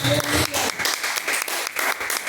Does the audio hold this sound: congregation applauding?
yes